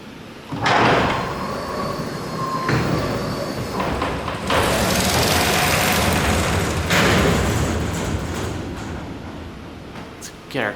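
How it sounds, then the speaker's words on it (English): A vintage US hydraulic freight elevator's door rolls open in stages, with heavy rumbling slides, clanks and bumps of metal panels over about ten seconds, ending in a few sharp clicks, with speech also present. "So now let's open the door."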